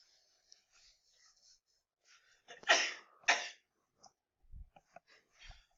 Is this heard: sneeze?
yes